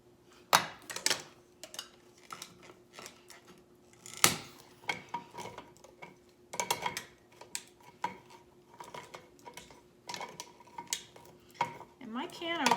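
A poorly working can opener is worked around a can in a kitchen, making irregular metallic clicks, scrapes and clanks in uneven bursts, close and fairly quiet, with no one talking.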